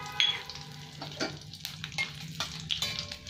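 Dried red chilies, black mustard seeds and dried curry leaves fry in a little oil, a close, steady crackling sizzle with small pops and a few stirring scrapes, no voices.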